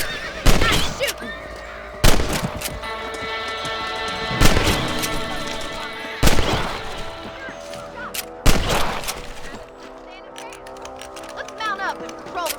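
Rifle shots crack out in a Red Dead Redemption shootout, five loud evenly spaced blasts about two seconds apart, each with a ringing tail, over game music and horse sounds, with voices talking.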